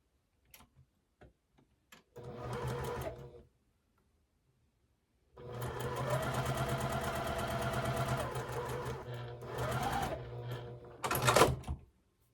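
A sewing machine stitches fabric strips for a quilt, running in two sustained bursts with a short pause between them, plus a few isolated clicks and ticks at the start.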